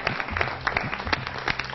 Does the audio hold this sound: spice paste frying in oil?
no